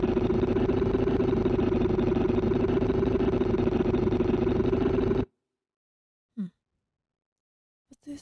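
Synthesized lawn mower effect built in the Pigments synth with added EQ, a loud, steady droning engine rumble that cuts off abruptly after about five seconds, followed by a few faint short noises.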